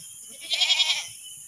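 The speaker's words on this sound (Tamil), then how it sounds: "இந்த ஆடு தான் ஃப்ரெண்ட்ஸ் எங்கள் வீட்டில் இருக்கிறதுலே வந்து கொஞ்சம் பெரிய ஆடு." A large domestic goat in labour gives one short, wavering bleat in the middle, heard close over a steady high-pitched background hum.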